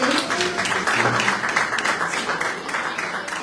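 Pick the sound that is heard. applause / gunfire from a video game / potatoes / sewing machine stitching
applause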